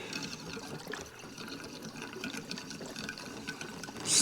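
Fuel poured from a 5-gallon can makes a steady, close liquid gurgle and splash that runs unbroken throughout, with no talking.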